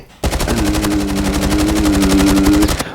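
Rapid automatic video game gunfire rattles off in a steady, unbroken burst for a few seconds, loud and close, with a low mechanical hum underneath.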